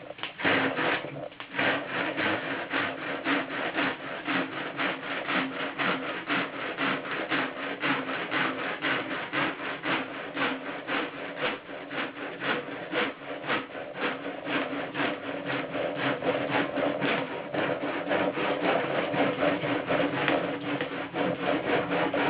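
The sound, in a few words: cutting material by hand, sawing or rasping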